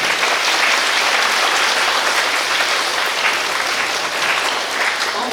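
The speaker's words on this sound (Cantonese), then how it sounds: "請大家俾熱烈嘅掌聲俾老師同家長" An audience at a school English-subject award ceremony gives warm applause for teachers and parents, a dense, loud, sustained burst of clapping filling the hall without talking.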